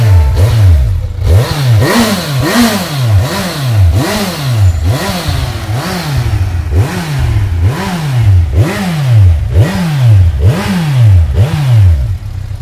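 A stock Kawasaki Ninja 1000cc sport motorcycle engine revs hard over and over in a steady rhythm, about ten loud rising-and-falling blips, close up with no talking.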